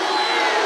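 A basketball arena crowd at a Golden Lions vs Alabama State game roars in a brief, loud, sustained wash of disapproval over a charge call.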